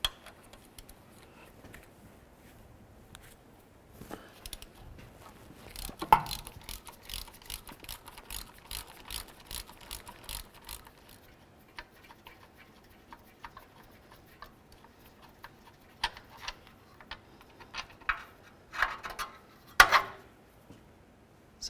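A hand ratchet removing an engine mount bolt on a 2007-12 Nissan Altima: rapid, close clicking pawl strokes in repeated runs, with metallic clanks from handling tools in the gaps.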